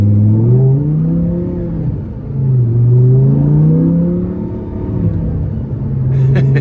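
V10 engine of a 2010 Audi R8 Quattro under way, a deep loud droning roar rising and falling as it revs, pulling up and easing off in smooth waves throughout, no talk.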